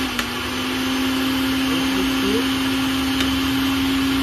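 A repaired mixer grinder with a rewound motor runs steadily at one speed, giving a continuous, even whirring hum with no breaks and no talking.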